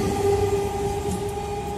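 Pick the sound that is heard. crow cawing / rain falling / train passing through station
train passing through station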